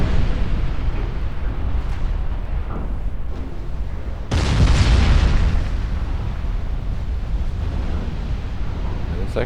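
Naval guns boom from a warship in a 1947 naval battle game, with a heavy low blast arriving midway over a steady rumbling background.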